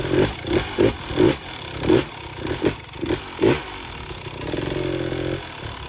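Dirt bike engine on loose hard-enduro ground, revved in a series of sharp bursts with a clutch pop, loud and close, then settling into a sustained higher drone near the end.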